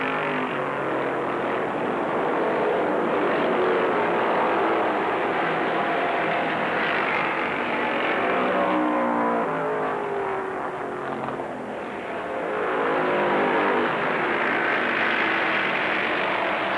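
Stock race cars race around the track in an archival race broadcast, a sustained engine roar with rising and falling pitch as cars sweep past, briefly dipping before swelling again, heard from trackside distance.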